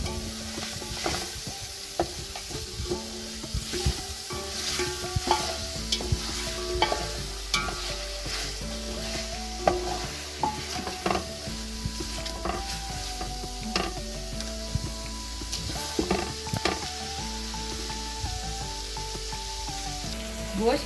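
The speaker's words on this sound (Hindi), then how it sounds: "गोश्त की तकरीबन 4 से 5 मिनट मैंने अच्छी तरह बुनाई की है।" Beef sizzling and being stirred in a pot with garam masala and dried coriander, a steady frying hiss with frequent scraping stir strokes throughout, fairly close and continuous, no voices.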